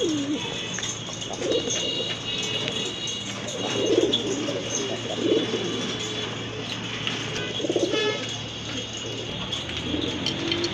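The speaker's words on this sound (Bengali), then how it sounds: "ফার্স্টে আপনাদেরকে এক জোড়া চিলা কবুতর দেখাচ্ছি" A pair of large, all-orange Chila pigeons cooing in soft repeated phrases over steady background murmur, moderately close, with faint indistinct talk.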